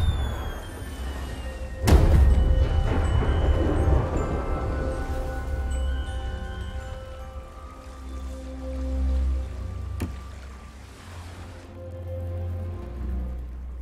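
Anniversary Firework from the pirate game Sea of Thieves, with one loud burst near 2 seconds followed by a long fizzing, crackling shower and a sharp pop around 10 seconds, set against a wash of sea noise.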